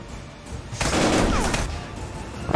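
Rapid gunfire in a VR shooting video game, a dense burst of shots lasting about a second that stands out against quieter game sound.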